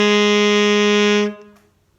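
A single sustained alto saxophone F natural, held steady and loud for over a second before cutting off cleanly into a brief fading tail, with no talking.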